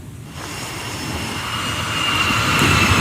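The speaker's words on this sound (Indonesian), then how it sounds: "Jet tempur Super Hornet Angkatan Laut Amerika Serikat lepas landas dari kapal induk USS Abraham Lincoln" A US Navy Super Hornet fighter jet taking off from the aircraft carrier USS Abraham Lincoln, a loud, steady engine roar with broad hiss that rises and keeps building throughout, with no voices.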